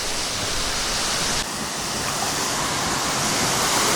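A waterfall in the Philippines roars in a loud, steady, broadband rush, heard up close from a first-person viewpoint, with no talking.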